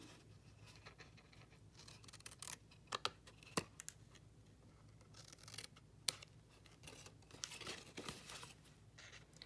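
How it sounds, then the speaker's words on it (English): Paper snips cutting through card stock while a party favor box is made: quiet, irregular crisp snips and rustles over about nine seconds, with several sharper clicks standing out, close by and without talk. "Our paper snips are perfect for this type of work."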